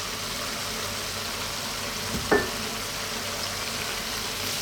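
Corned beef added to ampalaya already frying in a pan, a steady soft sizzle throughout with one brief clatter as the meat goes in, fairly close and moderately quiet.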